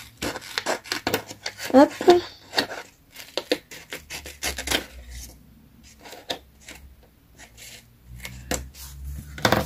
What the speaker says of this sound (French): Donc hop, je coupe légèrement et je viens le finir au ciseau.